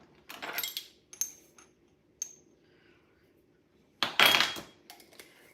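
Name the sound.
spoon hitting a metal bowl while sprinkling seasoning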